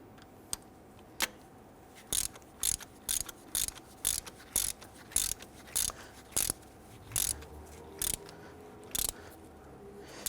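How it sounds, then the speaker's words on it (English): Ratchet wrench tightening a threaded fitting on a Jeep Grand Cherokee 4.7L V8 engine during intake gasket work, a quiet series of rapid clicking bursts repeating in a steady rhythm, close by with no talk. "Gonna thread that down till it gets pretty snug."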